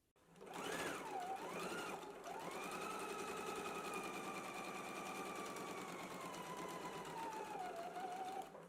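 A sewing machine runs steadily, stitching a lining onto main fabric with a 5/8 inch seam, producing a continuous close-up whirring hum that slows briefly near the start and then holds a constant pace.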